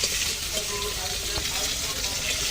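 Kohlrabi and pumpkin stems fry in a pan with a close, continuous crackling sizzle and a few soft stirring scrapes.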